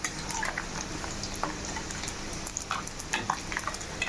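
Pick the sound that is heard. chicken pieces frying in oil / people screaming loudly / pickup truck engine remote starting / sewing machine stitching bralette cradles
chicken pieces frying in oil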